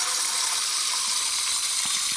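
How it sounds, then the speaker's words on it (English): Water and air hiss and spray out of an air compressor's moisture trap through an opened drain valve, a loud, steady rushing that fills the clip. "And then you drain out your water in here."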